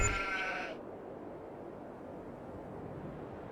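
Sheep bleating in a farming video game, a short harmonic bleat opening the clip and cutting off after under a second, leaving a low steady background hum.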